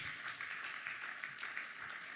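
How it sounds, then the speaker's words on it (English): Faint, steady clapping from an audience, a soft even patter of applause heard from a distance. "Can we please give her a round of applause?"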